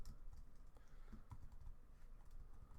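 Quiet typing on a computer keyboard during programming, a soft irregular run of key clicks heard close but faint, with no talking.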